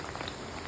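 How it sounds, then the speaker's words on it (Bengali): Mathri made from kneaded atta dough frying in hot oil in a home kitchen, giving a brief, steady bubbling sizzle with no pauses. "এটা ফ্রাই হচ্ছে এখন।"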